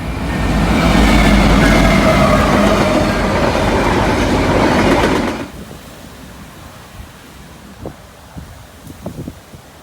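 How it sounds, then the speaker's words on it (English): A short Norfolk Southern intermodal train led by an SD70ACC with an AC44 trailing rolls past loud and close, a steady roar of wheels and rail that cuts off abruptly midway, leaving quiet outdoor ambience with a few faint knocks. "Next up was an extremely short Norfolk Southern intermodal with an SD70 ACC leading and AC44 trailing second"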